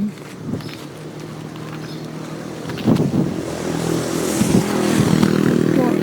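Outdoor wind buffets a microphone during a walk, a steady broadband rumble with gusty swells that grow stronger toward the end, alone with no talking.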